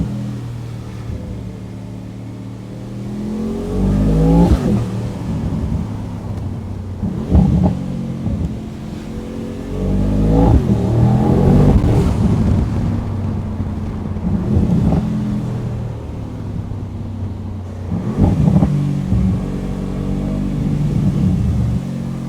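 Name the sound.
Mercedes AMG Mythos PureSpeed V8 car driving on Autobahn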